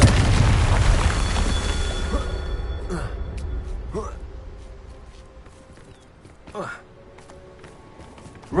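Confringo blasting spell explosions in a Harry Potter video game, a loud rumbling blast fading at the start followed by several softer pops and whooshes spaced a second or so apart.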